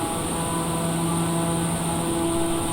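The turboprop engine of a Daher TBM 930 running at full power gives a steady, loud droning roar with constant tonal whine inside the cockpit, unbroken and with no talking.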